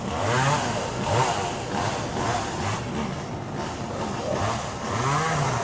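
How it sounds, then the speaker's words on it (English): Chainsaws run at some distance outdoors after a hurricane, their engines rising and falling in repeated revving cycles over a steady motor drone. "And there's the sweet sound of chainsaws."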